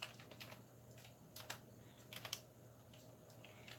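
Quick bursts of keystrokes on a computer keyboard, faint and fairly close, tapping in uneven clusters over a low steady hum with no voices.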